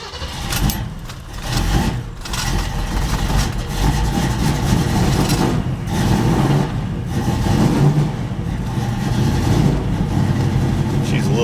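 A 1974 Ford Bronco engine idles just after starting, running a little rough and loaded up, with a steady close rumble and someone talking over it.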